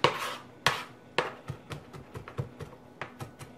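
A knife cuts through minced garlic on a cutting board, first with a couple of sharp heavier chops, then a run of lighter, quicker taps close by.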